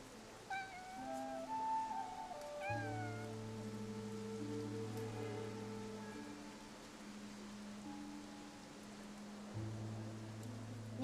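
A cat meows twice in the video game Infinity Nikki, short rising calls near the start over soft rain and a sustained musical backdrop.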